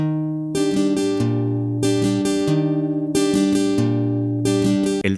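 Steady acoustic guitar strumming in a slow pattern of down and up strokes, four bright chord bursts ringing out over a sustained bass note, played alone with no talking, from a requinto lesson.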